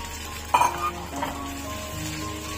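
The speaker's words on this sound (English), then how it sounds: "in a kadai, take some oil and fry the idli slightly" Idli pieces frying in oil in a kadai give a continuous close sizzle, with a sharp clatter of a utensil stirring against the pan near the start and a softer knock after.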